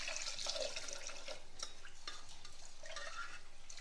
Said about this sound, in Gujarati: આ બધાને 2-3 વાર પાણીથી સરસ રીતે ધોઈ લેવાનું છે.